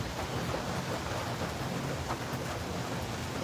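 Steady rainfall as a constant, even hiss with no let-up, moderately loud and heard alone with no talking.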